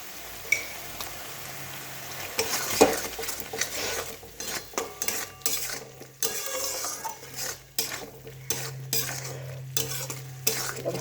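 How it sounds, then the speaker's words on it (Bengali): Soybean chunks frying in a kadai wok for dahi soyabin kosha, with repeated scraping strokes of a metal spatula against the pan over a steady sizzle, close and fairly loud. "এখানে আমি একটা কড়াই বসিয়েছি সোয়াবিনটাকে হালকা ভেজে নেওয়ার জন্য"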